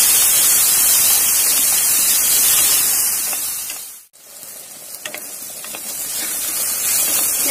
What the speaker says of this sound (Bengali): খুব ভালো করে বেগুনটা ভেজে নিতে হবে